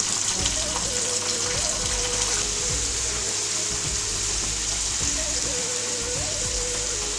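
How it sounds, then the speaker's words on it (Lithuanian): Turkish-style cheese rolls sizzle steadily in a frying pan as they are turned now and then, a constant close hiss of hot oil with soft pops and no talking. "Kepam kartais nuo karto apversdami mūsų suktinukus"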